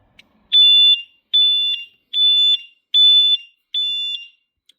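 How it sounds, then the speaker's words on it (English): A vehicle security siren gives five evenly spaced, loud, shrill electronic beeps as garage mode is switched off, each beep a short steady tone with silence between, with no talk. "5 beeps of the siren and 5 flashes of the indicators"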